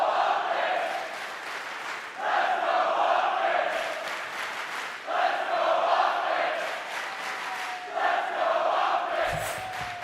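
Arena crowd at a Call of Duty League Major III esports tournament roars in repeated swelling waves of cheering, loud and sustained with brief dips between surges.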